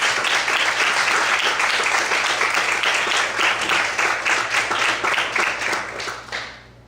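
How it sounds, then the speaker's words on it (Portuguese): A church congregation applauds strongly, the crowded clapping gradually loosening into separate claps and fading away over the last couple of seconds. "As fortes palmas"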